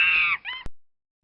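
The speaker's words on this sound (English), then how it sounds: "monkey" A monkey lets out a short, harsh shriek followed by a weaker broken cry, ending abruptly with a click and then silence.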